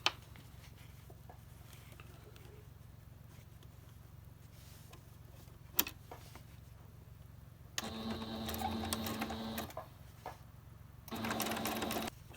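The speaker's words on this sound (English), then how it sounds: "I'm actually going to triple stitch this because that's really going to get pulled on" Sewing machine triple stitching elastic onto a fabric face mask, heard as two bursts of rapid mechanical whirring after a long quiet stretch with a low steady hum and a sharp click midway.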